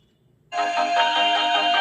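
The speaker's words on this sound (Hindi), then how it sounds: "फोन में म्यूजिक प्ले हो रहा है।" Music starts playing from a phone's speaker after a brief silence, a bright, thin tonal melody with steady rhythmic notes that continues evenly at moderate loudness, close by and without talk.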